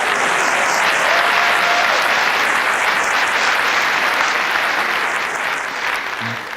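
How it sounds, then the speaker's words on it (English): A studio audience applauds at a comedy show, with dense, loud clapping that holds steady throughout and eases slightly toward the end, with no voices over it. "that applause was for me"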